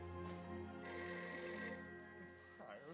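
A telephone rings late at night in a quiet home, a steady electronic bell tone holding for a couple of seconds at moderate level with no one speaking over it.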